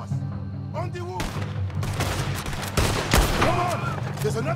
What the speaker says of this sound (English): There's another set of cannons up ahead!